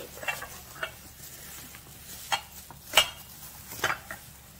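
Assorted plain white surplus plates are handled and set against each other, producing scattered close ceramic clinks and taps between quiet moments.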